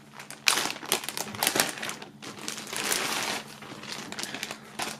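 Sweatshirt pulled out of plastic foil packaging during an unboxing, a close, fairly faint run of crinkling and rustling with sharp crackles and short pauses.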